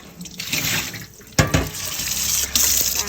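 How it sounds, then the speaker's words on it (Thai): Green chillies are rinsed under a running kitchen tap, water splashing steadily into a sink with a louder gush partway through as the chillies are moved under the stream. "ล้างพริกกันนะพี่น้องล้างพริกสะอาดสะอ้าน"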